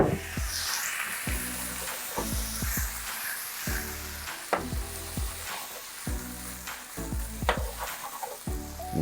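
White wine hits a hot pan holding a seared tomahawk ribeye, a loud close sizzle and hiss that continues throughout, broken by repeated low clunks and scrapes of the pan, with no voices.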